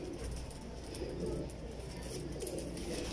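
Female pigeons in a loft cooing softly in low, rolling calls over a quiet room murmur, with a faint voice in the background.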